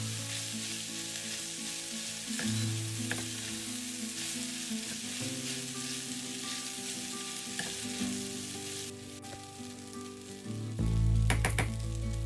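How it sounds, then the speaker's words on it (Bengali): Fried vermicelli and vegetables are tossed and mixed in a hot pan for upma, with a continuous close sizzle, scraping stir strokes throughout and louder clanks near the end. "এবার সমস্ত ভার্মিসেলি আর সবজিগুলোকে ওপর নিচ করে ভালোভাবে মিশিয়ে নেব।"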